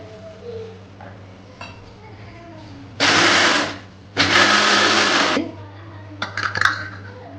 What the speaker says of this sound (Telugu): ఇదిగోండి మిక్సీ పట్టాను